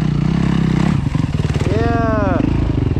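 A motorcycle engine roars close by and rises in pitch as it revs, with a shout briefly over the noise.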